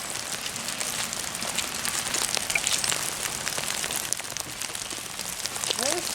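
Rain falls steadily on a farm during morning chores, a continuous close hiss of drops pattering on surfaces, with faint scattered knocks and rustles in the mix.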